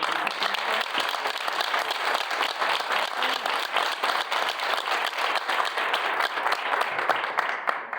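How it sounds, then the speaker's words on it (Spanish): Applause from a university congress audience, a continuous wash of many hands clapping at a constant, moderately loud level for several seconds. "te quiero dar otro aplauso"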